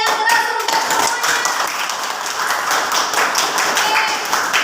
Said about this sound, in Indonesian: Mana tepuk tangannya yang keras untuk semuanya?